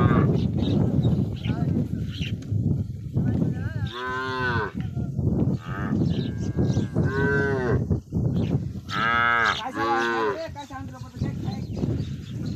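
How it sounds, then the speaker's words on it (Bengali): Cattle on a river char in the India–Bangladesh border area low repeatedly with long, loud moos, several calls in a row over constant outdoor noise, with voices talking around them. "আপনাদেরকে এক নজরে আমরা দেখানোর চেষ্টা করলাম গরুগুলা"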